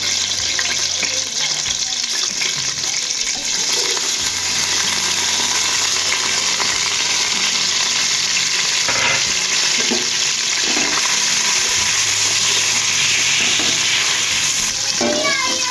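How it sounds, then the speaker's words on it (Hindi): Desi ghee tempering sizzles in a pan while jaggery rice is prepared with cardamom, producing a loud, steady hiss with occasional clinks and stirring knocks throughout. "तो उसके बाद फिर हम लोग इसमें देसी घी से तड़का लगाएंगे।"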